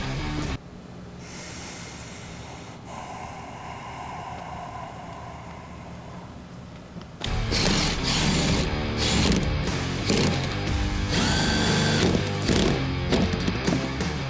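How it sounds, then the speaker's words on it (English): Ratchet bolting a heated car seat back into place during an upgrade, with a muffled ratcheting and clicking stretch followed by louder, busier mechanical clatter close to the mic. "Then I'm going to bolt the seat back in"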